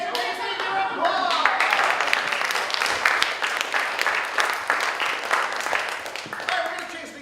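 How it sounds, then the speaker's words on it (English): An improv show audience claps and cheers steadily, with dense applause that rises quickly and tapers near the end, and a voice is briefly heard at the start. "please take your applause."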